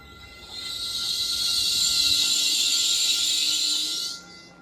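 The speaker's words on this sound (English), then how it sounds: "There's the holiday train right there." A Caltrain holiday train passes at a station during a meet with a northbound weekend local: a loud, close hissing rush swells up, holds steady for about three seconds, then cuts off sharply.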